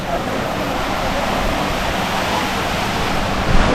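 A creek beside a small village near Konya gives off a steady, loud, broadband rush of flowing water that stays even throughout, close by.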